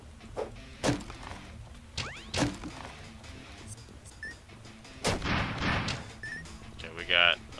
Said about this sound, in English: that's the bombs from my dash